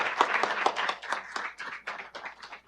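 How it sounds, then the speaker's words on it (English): Small forum audience giving a round of applause, light scattered clapping from a modest group of hands, close and fairly quiet, tapering off within a few seconds. "Let's give them another round of applause."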